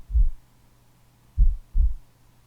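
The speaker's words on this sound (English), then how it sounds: "After a short period, you may be able to feel your heartbeat." Deep, muffled heartbeat thumps, one beat, a pause, then a close double thump, heard alone over a faint low hum.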